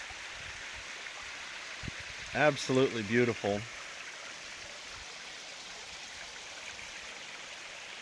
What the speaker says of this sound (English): there's been a lot of these beautiful little streams and waterfalls, but I wanted to film this one